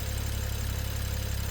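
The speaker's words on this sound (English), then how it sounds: "I'm gonna let it idle for 30 minutes." A BMW N55 engine with head gasket sealer just added idles steadily and up close, a constant low rumble with an even pulsing throb and no talk.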